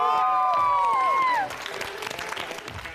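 A studio audience at a variety show erupts in applause and excited screams after a contestant's dance invitation, a loud burst of clapping and shrieks following a sung or shouted line.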